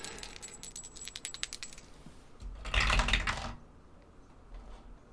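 Dice rattling and clattering for a skill check in a tabletop roleplaying game, a burst of small clicks followed by a short louder tumbling roll, close and alone.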